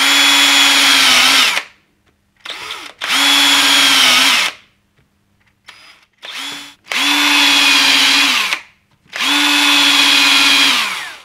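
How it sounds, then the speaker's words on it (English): A power drill bores into a wooden radiogram cabinet in four long bursts with short pauses between, the motor whining steadily and loud up close, with a few brief blips in between. "Once I've drilled out these holes"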